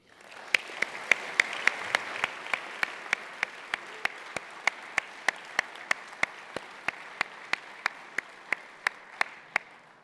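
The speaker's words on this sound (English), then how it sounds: "I ask this audience to please take a moment and a round of applause for them because they are most deserving." Audience applause fills a banquet hall at an air safety awards dinner, a steady wash of many hands clapping with sharp regular claps standing out, continuing at even loudness throughout with no talk.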